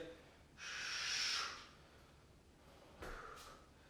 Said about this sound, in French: Allez, on respire, on respire